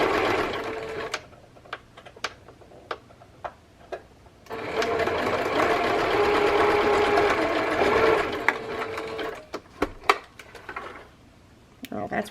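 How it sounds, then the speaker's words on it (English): A sewing machine stitches a fabric tab onto a paper page in a papercraft project. First come scattered taps and clicks, then a sustained close mechanical whir for several seconds, then more sharp ticks as the run ends. "so that's why I'm sewing"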